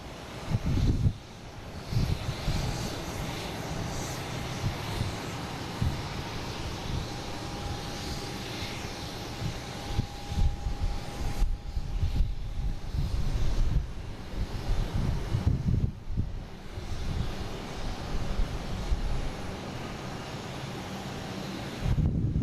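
A UPS cargo plane arriving from Louisville at Boston Logan airport, a broad engine roar mixed with heavy wind buffeting on the microphone, sustained and rising in bursts with a faint steady tone for part of the time.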